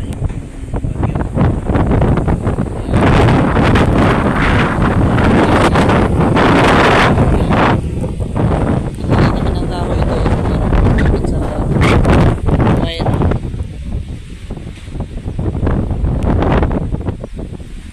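Strong typhoon wind roars across a farm, loud and gusting in broad turbulent bursts with buffeting against the microphone, swelling and easing over the whole stretch with no break.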